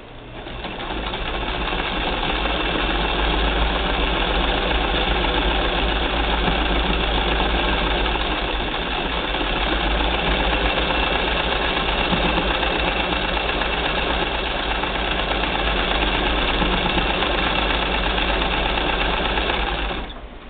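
A 1959 Singer Spartan sewing machine, fitted with a replacement motor and set in a cabinet, runs continuously with a steady mechanical whir and rapid needle clatter. It goes on uninterrupted for about twenty seconds, with no talking.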